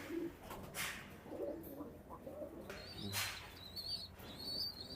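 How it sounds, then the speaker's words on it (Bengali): Teddy pigeons coo softly in a loft, low throaty calls rising and falling, with a few higher chirps and faint rustling nearby. "এগুলো সব টেডি কবুতর"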